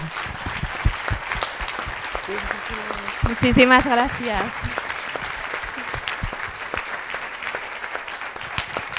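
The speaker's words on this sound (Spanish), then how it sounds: "Vamos a aplaudirle, gracias. pero a rabiar." An audience at a book talk applauds warmly and steadily, a dense wash of clapping that lasts throughout, while a speaker briefly talks over it midway.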